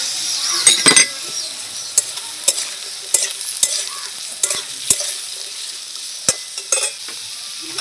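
Potato and onion sizzling in a pan while a utensil stirs and scrapes, with irregular metallic clinks, close and continuous.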